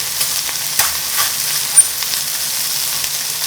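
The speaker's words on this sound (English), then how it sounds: "once that you see some searing like that, you can go ahead and start stir frying" Cumin lamb sears in a hot wok, giving a steady close crackling sizzle with a few sharper spatters over a few seconds, with no talking.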